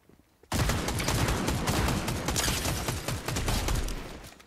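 Sustained rapid gunfire from a weapon in Fortnite, dense bursts of shots starting abruptly after a brief quiet and continuing loud and close throughout.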